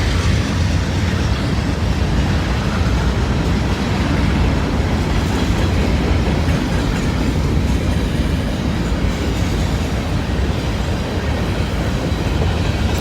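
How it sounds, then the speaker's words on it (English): A long CSX freight train rolls past on the rails, a steady, loud rumble of wheels and cars with faint clickety-clack running unbroken throughout, no voices. "Well, it's a long CSX train."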